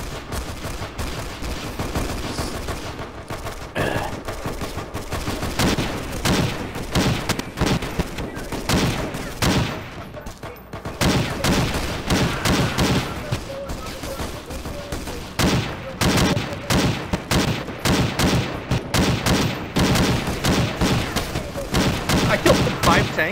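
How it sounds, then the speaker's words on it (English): Relentless gunfire in SMOD Outbreak, a Half-Life mod: dense rapid shots and automatic bursts pounding almost without pause for over twenty seconds, loud and close, with a brief lull midway and voices buried in the din. "What on earth are they shooting at?"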